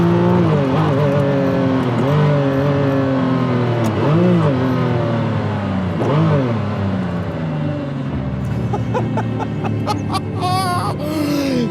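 Restored Ferrari F50 hypercar with a manual gearbox, engine heard from on board as it drives, loud and close, climbing through repeated revving surges and gear changes, a rising howl near the end.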